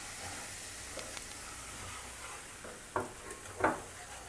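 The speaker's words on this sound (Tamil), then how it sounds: "இப்போ வந்து இந்த ரவாவை வந்து இதில் ஃப்ரை பண்ணிக்கணும்." Semolina (rava) frying in a pan gives a steady, faint sizzling hiss, with a few soft clinks of a utensil against the pan near the end.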